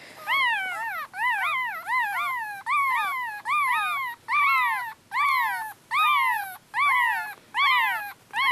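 Tiny five-week-old black and silver teacup poodle puppies cry in a rhythmic run of high, wavering whimpers, about ten close, clear cries repeating roughly once a second, with no talk.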